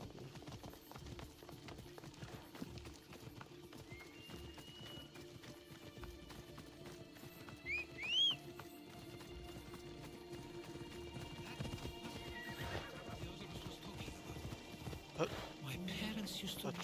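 Hooves clip-clop steadily as a horse gallops in the video game Assassin's Creed Odyssey, with a brief neigh partway through, all under game music and ambience, with voices talking over it.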